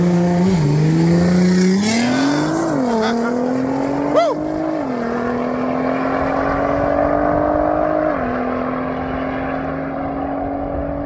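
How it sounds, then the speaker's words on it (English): A Nissan GTR accelerates hard, engine note climbing through gear changes as it rushes past loudly and close, then settles into a steadier drone as it pulls away; a voice is faintly present. "The GTR passes"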